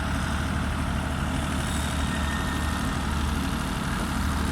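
Two large water pump engines drone steadily and loudly, pumping out floodwater, a constant low rumble with no pauses or voices.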